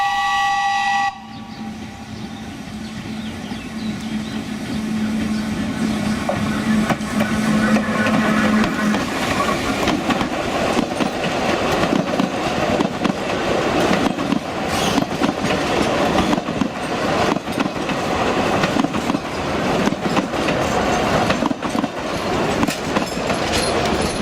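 A Sóller narrow-gauge railway train with 914 mm track runs through Mallorca, giving a steady rumbling roll with rhythmic clickety-clack from the wheels that holds throughout, opening with a brief tonal note.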